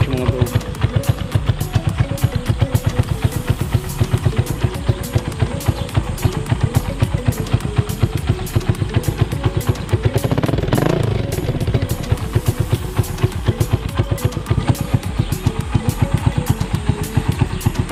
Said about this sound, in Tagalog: Ayan, tunog ng ating tambotch,